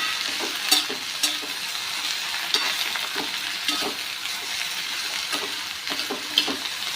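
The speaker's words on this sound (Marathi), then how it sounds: "मोठ्या गॅसवरतीच भेंडी परतून घ्यायची आहे" Okra stir-fried in a pan over a high flame: a steady close sizzle with repeated scraping stirs at a regular pace, no voices.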